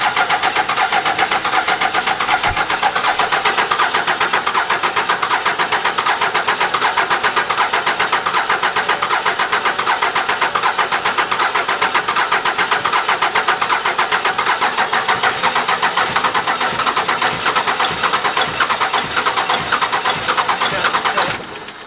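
A 24-valve Cummins diesel with newly installed 125 hp SAC injectors cranks and runs, giving a loud, continuous close-up engine roar that holds steady throughout with no talking.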